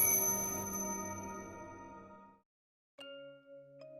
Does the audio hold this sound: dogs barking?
no